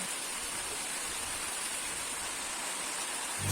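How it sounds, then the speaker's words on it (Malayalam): Heavy rain pours steadily in a Kerala monsoon setting, a dense, even hiss of falling water that stays constant and fairly near throughout, with no voices over it. "നിങ്ങളുടെയൊക്കെ നാട്ടിൽ ഉണ്ടോ ഇങ്ങനത്തെ മഴ?"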